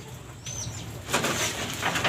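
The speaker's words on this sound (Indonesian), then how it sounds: "volume besarnya burung perkutut itu ya, suara." A zebra dove (perkutut) calls faintly amid a noisy outdoor background, with a brief thin whistle-like note and a possible flutter of wings.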